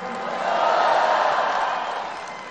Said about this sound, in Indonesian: saudara harus tepuk tangan yang kuat